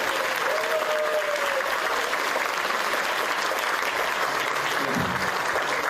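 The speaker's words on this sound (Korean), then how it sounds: "여러분, 그야말로 지당한 말씀을 용기를 내서 해주신 우리 이진석 의원님께 다시 한번 뜨거운 박수 부탁드립니다." Audience applause at a Korean political forum on May 18, dense and continuous clapping filling the hall, with a brief voice over the top near the start.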